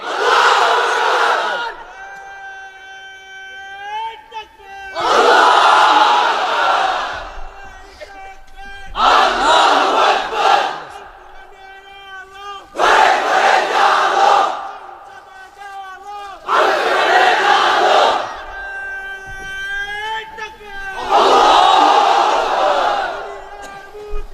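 A large crowd of unmarried men at an outdoor Islamic sermon gathering in Cumilla chants the takbir in loud, drawn-out unison shouts, repeating six times in regular bursts with short pauses between them.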